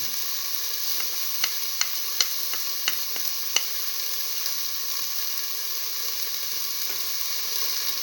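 Salted egg being stirred into a simmering eggplant and split mung bean stew: a soft, steady sizzle with a series of light spoon clicks against the pot early on, then an even hiss.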